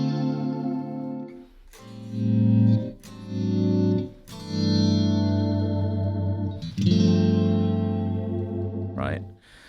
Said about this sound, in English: I would probably, put some reverb in there, just to, and I can vary that with this pedal over here